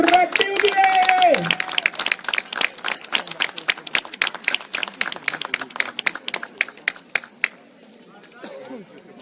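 Crowd clapping at an amateur rugby match between Rugby Udine and Mogliano Veneto, a dense round of applause that thins into scattered claps and fades out. A voice over a speaker is heard briefly at the start.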